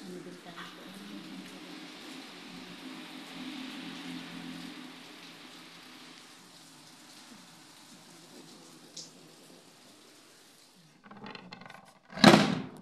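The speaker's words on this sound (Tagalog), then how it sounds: "Ay nako, ulan-ulan." Rain falls steadily on a house in the mountains, a soft continuous patter that eases slightly midway, followed near the end by a brief loud clatter.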